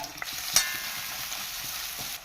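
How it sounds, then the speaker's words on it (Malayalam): Sliced onion and green chilli sizzling in hot coconut oil, a steady close frying hiss with a sharp crackle just after it starts and light stirring throughout, no voices. "ചൂടായ വെളിച്ചെണ്ണയിലേക്ക് അരിഞ്ഞു വെച്ചിരിക്കുന്ന സവാളയും പച്ചമുളകും ഇട്ട് കൊടുക്കാം."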